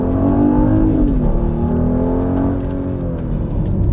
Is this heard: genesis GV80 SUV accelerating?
yes